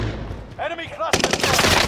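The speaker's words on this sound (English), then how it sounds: "Taking heavy fire!" Heavy gunfire in a first-person shooter video game: a harmonic tone briefly rings out before a loud, dense burst of rapid automatic shots erupts close by and continues without a break.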